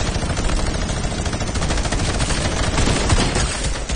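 Dense, rapid gunfire in the video game Fortnite during competitive duo play, loud continuous bursts of automatic fire with overlapping shots for the full stretch, no speech.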